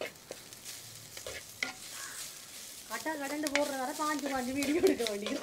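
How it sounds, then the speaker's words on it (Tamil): Curry leaves sautéing and stirred in a pan for homemade Jaffna-style chicken curry, a soft sizzle and scraping at first, then louder frying with a voice talking over it. "கருவேப்பிலை போட்டு கொஞ்சம் இதோட வதக்கணும்"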